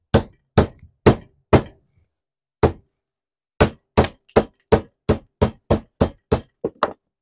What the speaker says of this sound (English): Hammer works, a little messy, but that's okay.